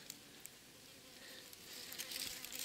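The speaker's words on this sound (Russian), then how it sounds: "Мух огромное количество." Many flies swarm around stinkhorn mushrooms outdoors, giving a faint, continuous buzzing hum that swells slightly toward the end, with light ticks and no voices.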